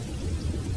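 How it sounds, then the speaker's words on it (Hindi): Rain falls outside a small shop as a continuous, close patter and wash, steady and unbroken for a brief moment. "दुकान में अब सिर्फ बारिश की आवाज"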